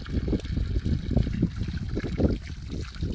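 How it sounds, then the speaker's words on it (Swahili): Water sloshes and splashes in irregular bursts, like people playing in shallow water, with a constant low rumble underneath. "wanachezea maji tu hapo."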